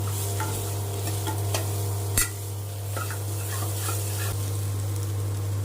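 Khichdi ingredients tempering in ghee, a low steady sizzle with scattered stirring clicks and one sharp knock, over a constant low hum, close and without talk.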